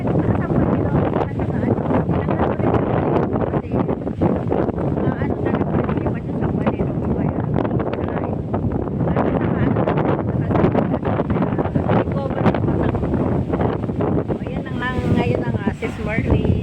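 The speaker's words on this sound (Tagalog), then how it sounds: "Totoo yung hangin." Strong outdoor wind buffets the microphone in a loud, continuous roar throughout, with a voice talking over it.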